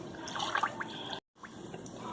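Water is poured into a rava and sour curd batter for rava idli, a soft continuous trickling with a brief cut to silence midway.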